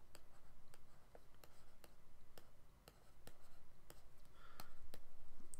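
Pen writing a math function by hand, with quiet close scratchy strokes and regular tapping clicks in a steady rhythm, faint and alone.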